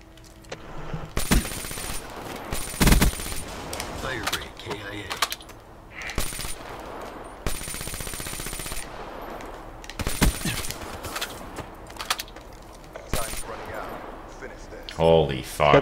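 Bursts of rapid automatic gunfire and single shots from the video game Black Ops 3 crackle in uneven volleys, mixed with game effects while players talk over them.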